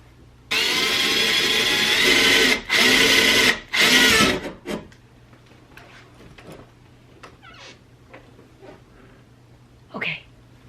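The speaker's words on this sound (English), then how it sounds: "I've got a tiny bit of power in my drill." A cordless power drill with a nearly drained battery whirs in a few loud bursts during closet storage installation. The last burst stops abruptly, then come faint handling clatter and a short voice sound.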